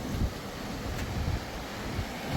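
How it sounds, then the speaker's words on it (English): Ocean waves wash steadily onto a shoreline, a broad continuous roar of surf mixed with wind buffeting the microphone, close and fairly loud with no voices. "Look at the waves today."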